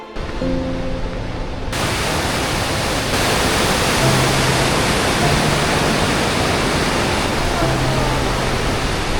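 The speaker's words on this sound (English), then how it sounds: "we made it here to Hidden Falls and the waterfalls are absolutely awesome. I love how just powerful the water is." Powerful Hidden Falls waterfall in Jackson Hole roaring as a steady, loud broadband rush of falling water, with faint voices briefly audible at the start.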